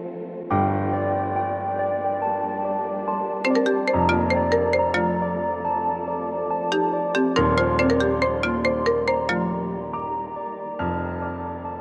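A phone ringtone plays a repeating electronic melody of sustained tones with bright chiming notes, loud and close, with no one talking.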